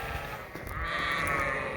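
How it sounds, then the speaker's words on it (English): A hungry sheep bleats on a hay farm at dusk, a single wavering call mixed into steady, fairly loud outdoor background noise. "The sheep are hungry"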